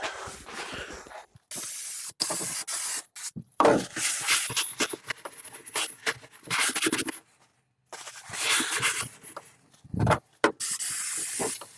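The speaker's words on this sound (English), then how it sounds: "just spray the bits that I'm gonna be painting, which is montage cleaner" Montage cleaner sprayed onto the bodywork of a Lada 1200 before painting, in repeated hissing aerosol bursts of a second or two each, separated by short pauses and close to the microphone, with no talking.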